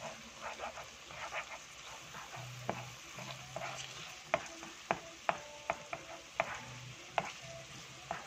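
Egg being stirred into bitter gourd (ampalaya) frying in a pan, quiet sizzling with a series of sharp utensil clacks and scrapes against the pan, and a dog barking faintly in the background.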